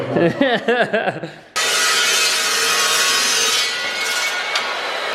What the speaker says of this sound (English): He's cutting the plate so we can make a bracket to mount that hydro